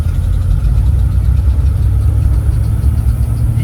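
A Chevrolet K5 Blazer engine revs under load with a deep, rough drivetrain rumble from its 700R4 transmission that holds steady throughout.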